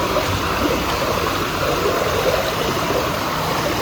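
Water falls steadily in a shower area at a Goa resort, making a constant, fairly loud hiss and splash with no breaks.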